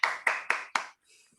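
A few people in an online seminar clap for a speaker, four separate sharp claps in quick succession, close and fairly loud, then a faint rustle.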